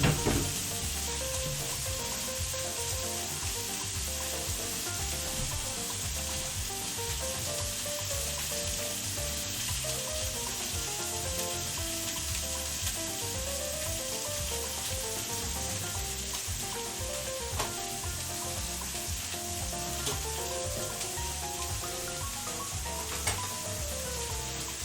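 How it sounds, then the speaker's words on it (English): Food sears in a hot pan with a steady, loud, close sizzle and crackle that holds evenly throughout, with no voices. "We'll give that a quick sear"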